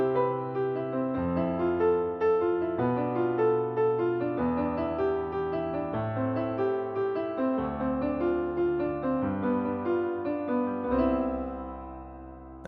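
Lush major seventh chords move with roots falling by fifths, each sustained chord changing roughly every second or so, played smoothly and fully with no voices.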